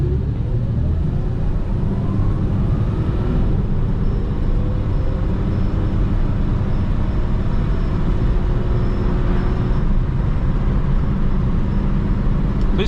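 A 1980 Dodge Aspen drives along with a loud, constant low engine and road rumble heard from inside the cabin, steady throughout without speech.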